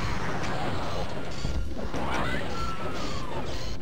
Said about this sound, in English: Now, for this one, I'm using the rocket launcher